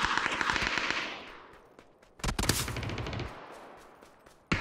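Gunfire in the video game PUBG: a rapid automatic burst up front, then a sharp volley of loud cracks in the middle and a final shot at the end, with quieter gaps between.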